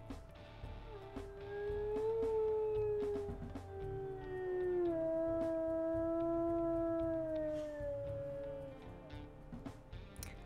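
A wolf character in the video game WolfQuest gives a long, drawn-out howl that rises, wavers and slowly falls, loud and mournful, carrying for nearly the whole stretch with faint background noise.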